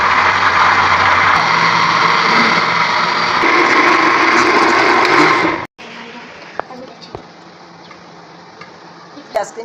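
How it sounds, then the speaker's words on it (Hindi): Mixer grinder blending custard and mango for homemade ice cream: a loud, steady whirring motor drone that runs for several seconds, then cuts off abruptly, leaving quiet kitchen clatter and a few small knocks. "हम कस्टर्ड और मैंगो ग्राइंड करेंगे तो फिर हमारी आइसक्रीम तैयार होगी।"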